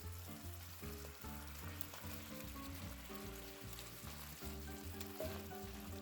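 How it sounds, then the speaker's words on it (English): Sliced sausage and peppers sizzle steadily in a pan, a faint, even crackle that runs without a break and with no talk over it. "Let's go ahead and add our sliced sausage back in."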